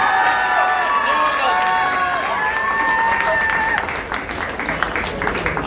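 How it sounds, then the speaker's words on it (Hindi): A crowd at a village political rally in the Sirsa Lok Sabha area breaks into loud, sustained applause and cheering, mixed with shouting voices, then tapers slightly toward the end. "जोरदार तालियों से"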